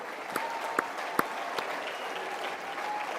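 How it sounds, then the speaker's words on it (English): A conference audience at CPAC 2026 applauds steadily in a large hall, a dense wash of clapping with a few sharper individual claps standing out, continuing without a break. "Many thanks and big clap,"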